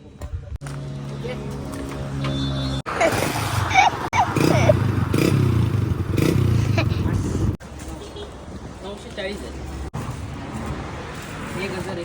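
An old modified Hero Splendor motorcycle fitted with an old-model silencer runs with a steady, throaty exhaust drone, rising and surging in bursts midway, while someone talks over it throughout.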